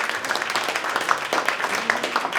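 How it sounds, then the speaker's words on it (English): Audience applause at a December community coffee roast event, a steady wash of clapping hands that holds at an even level for the whole stretch, with no voices standing out. "Give them a round of applause,"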